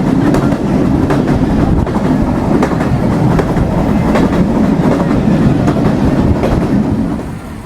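Mahananda commuter train rolling into Rupdia station, a loud steady rumble with rhythmic wheel clatter close by, easing slightly at the end.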